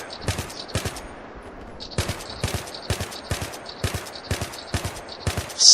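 Bursts of gunfire from a gun in the video game Battlefield, a steady run of sharp shots in short groups spread across the clip, loud and close, with no talking over them.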